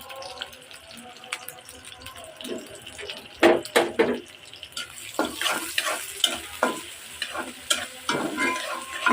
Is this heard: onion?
yes